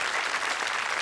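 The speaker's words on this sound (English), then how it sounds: "Give them a nice warm round of applause" Studio audience at a 1981 Bullseye game show breaks into a warm round of applause, a dense steady wash of clapping from many hands, close and sustained for the whole moment.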